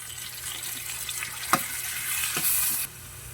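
Chopped tomato tipped into a pan of frying bitter melon and onion for an omelette, giving a steady soft sizzle with a couple of sharp clatters as the pieces land, then the hiss drops off.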